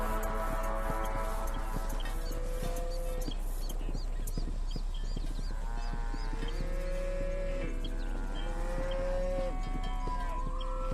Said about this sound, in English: So what am I supposed to do with these cows?